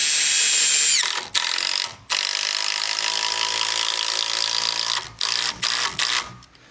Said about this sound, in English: We're just going to get one screw in it to hold it.